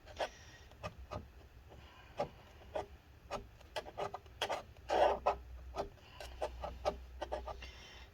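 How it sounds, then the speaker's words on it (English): Plastic-like scraping and rubbing on a 2012 15-inch Retina MacBook Pro A1398, working stuck battery adhesive off by hand; repeated short rasping strokes in an uneven rhythm, close and fairly quiet, with no talk. "I need a special tool for scraping this stuff off"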